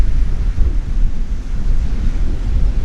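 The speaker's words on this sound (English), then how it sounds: "and it is still windy." Heavy coastal wind roars and thumps against the microphone nonstop, with a churning ocean-surf rush underneath at a beach campsite; loud and continuous, no speech.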